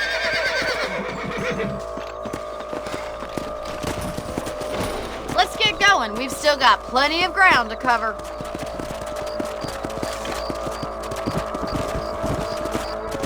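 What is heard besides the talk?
horses neighing and hooves clip-clopping in the video game Red Dead Redemption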